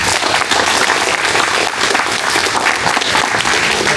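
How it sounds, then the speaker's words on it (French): Applause for an MMA fighter at an amateur French MMA competition, loud and continuous dense clapping filling the whole stretch with little crowd noise beneath. "on va l'applaudir"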